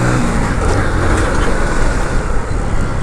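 A Royal Enfield Continental GT 650 motorcycle engine runs loud and close, a dense, steady throaty roar with no pauses.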